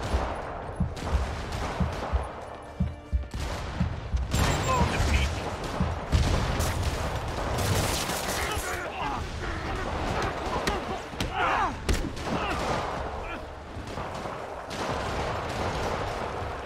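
Rapid bursts of rockets and explosive fire in the Spider-Man video game, loud, dense and overlapping, with booming impacts continuing throughout.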